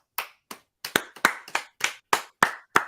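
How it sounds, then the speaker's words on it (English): About ten separate hand claps in a slow, uneven rhythm, each sharp and close, with silence between them and no voices. "Round of applause for Mr. Kmet"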